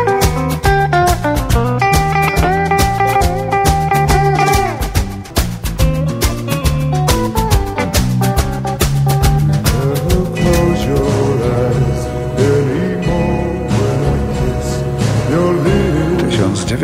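A musician plays a Fender Stratocaster electric guitar in an old recording: a bright, clean twangy melody runs continuously over a steady backing band.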